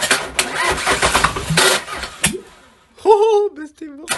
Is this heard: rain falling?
no